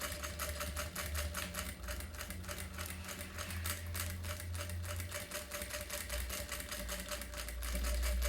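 A sewing machine stitching a purse runs fast and continuously, its rapid needle clatter forming an even, close mechanical rattle that persists unbroken, with no talking.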